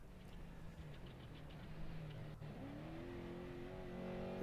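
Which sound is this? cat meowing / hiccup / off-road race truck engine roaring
off-road race truck engine roaring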